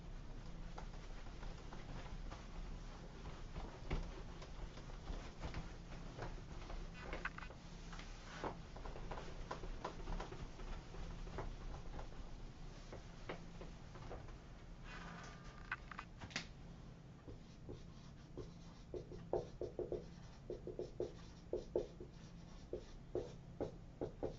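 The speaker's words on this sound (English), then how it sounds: "let me just erase this" A whiteboard being wiped clean during a chemistry lecture: a long run of quick, dry rubbing and squeaking strokes, soft and close, with no talking.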